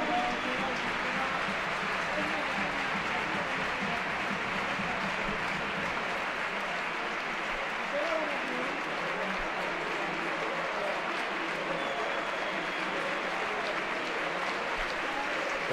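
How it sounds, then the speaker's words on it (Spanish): Stadium crowd at a Racing versus CD Lealtad football match applauding footballer Dani Aquino, a steady, sustained wash of clapping across the stands that carries on throughout with no break. "Ovación para Dani Aquino"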